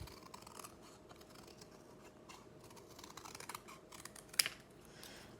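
Scissors cutting a shape out of a scrap of paper: quiet, close snipping and scraping that runs on, with one sharper snip near the end and no talking.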